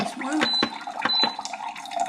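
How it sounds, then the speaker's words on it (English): Water drains from the released valve of an Orfeld masticating juicer in a brief splashing trickle, with a few sharp drips and clicks over a steady wet wash. "we're just gonna release the valve here and the water comes out"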